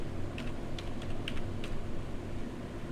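Light clicking of keys typed on a computer keyboard, a handful of quick soft taps over steady background hiss.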